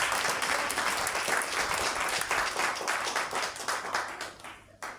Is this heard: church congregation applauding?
yes